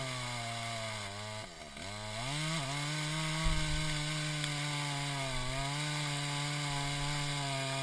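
Chainsaw, weaker than a 455 Rancher, cutting through a wooden branch; a steady, loud engine drone that bogs and dips briefly as the chain catches, then runs on continuously up close.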